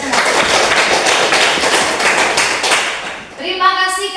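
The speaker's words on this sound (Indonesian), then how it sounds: "Tepuk tangan untuk kita semua." Group applause from a class at the end of a discussion, a dense burst of clapping that fades, followed by brief tonal sounds.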